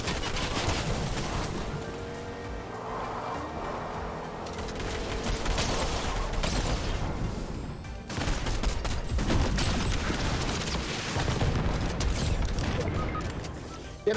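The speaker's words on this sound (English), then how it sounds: "the goo didn't hit the one I was aiming at, but it did hit the other guy" Goo gun fire in the Fortnite video game, a dense stream of shots and mechanical clatter running steadily through a loud, busy gameplay mix with little pause.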